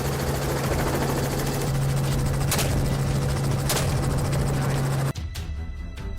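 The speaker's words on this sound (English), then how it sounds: "As the sound of the helicopter approaches" A helicopter drones steadily with a strong rotor hum, loud and close, growing in presence before the sound cuts off abruptly near the end.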